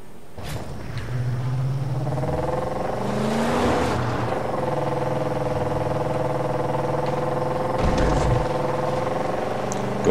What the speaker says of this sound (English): God, I fucked this car up. It does not sound healthy in the slightest.